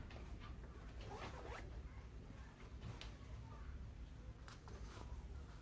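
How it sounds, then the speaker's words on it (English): A zipper drawn closed on a Spiderman mask stretched over a faceshell, a few quiet rasping pulls close by against a steady background hiss. "Do the zipper up will help."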